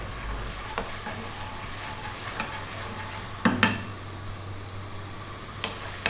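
Garlic and ginger sizzle in a pan still greasy from Chinese pork sausage, a steady soft frying hiss broken by a few clinks and scrapes of tossing.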